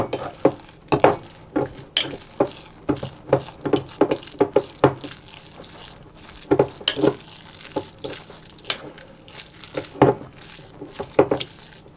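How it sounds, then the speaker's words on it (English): Spoon stirring apricot jam into a mixture in a bowl, giving irregular scraping and clinking strokes at close range, steady and fairly prominent, with no talking. "just want to mix my apricot jam into that. Stir it around."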